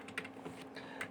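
Typing C code on a computer keyboard, a quick, soft run of key clicks with a couple of sharper taps, close and steady in a quiet room.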